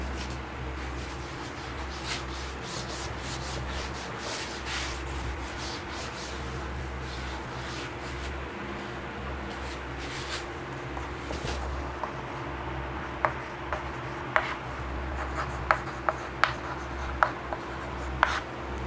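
Chalk or marker writing is rubbed off a classroom board during a maths lesson in a steady run of scraping, wiping strokes, followed by a few sharp taps and clicks near the end; no one speaks.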